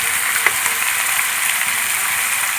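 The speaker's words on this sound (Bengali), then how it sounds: "এইভাবে কিছুক্ষণ চিকেনের সাথে মশলা ভালো করে কষিয়ে নেব।" Chicken sautéing with spices in a pan gives a continuous, even sizzle with light crackles and a faint stir or scrape, close and fairly loud.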